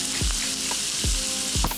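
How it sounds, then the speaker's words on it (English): Beef burger patties frying in a pan on a stove in a smoky kitchen, a loud steady sizzle throughout with three low thumping knocks spaced across the stretch, no talk. "I moved the beef patties back to the stove"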